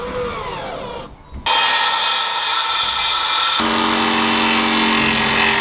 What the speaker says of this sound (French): Maintenant, c'est la visseuse. Scie circulaire électrique, scie sauteuse, ponceuse.